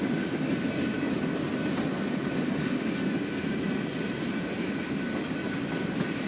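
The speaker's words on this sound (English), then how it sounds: "now this next TPU was smoking. It was a flagless AC-44" A smoking, flagless AC-44 freight locomotive passes at Rosenberg with a continuous, fairly close rumble and rolling rail noise at a steady level.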